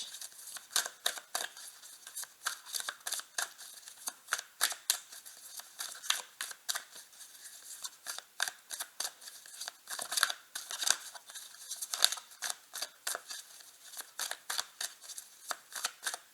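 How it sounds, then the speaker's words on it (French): Tarot cards are dropped and shuffled by hand in a quiet room, a rapid, irregular run of close, crisp card slaps and riffling flutters that continues with short pauses, with no voice. "on me demande de laisser tomber les cartes, donc je vais les laisser tomber."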